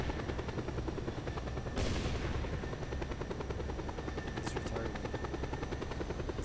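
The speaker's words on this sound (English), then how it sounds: "This is like the slowest helicopter ever." A helicopter in the video game Just Cause 2, a steady loud rotor thump and engine drone throughout, with a brief whooshing burst near the two-second mark.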